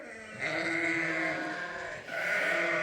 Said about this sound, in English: we got a whole bunch of other screaming sheep in here